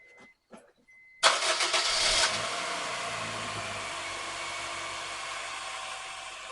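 A Honda Fit engine cranks and catches after a valve adjustment, roaring up loudly before settling into a steady idle; a few faint clicks come just before it starts.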